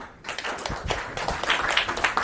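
Audience at a community security workshop in Kisumu, Kenya, applauding to welcome someone speaker: a dense, steady wash of many hands clapping close by, rising after a brief quiet start and holding for about two seconds.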